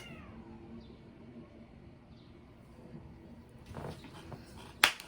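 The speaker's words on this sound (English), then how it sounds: "I just heard a cat" A cat meows faintly a couple of times in a quiet room, followed by a short rustle and a sharp click near the end.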